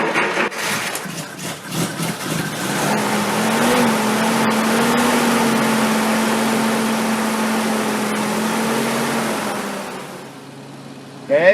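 An old vehicle, unused for months, starts and its engine runs at a steady close idle for several seconds, then dies down near the end.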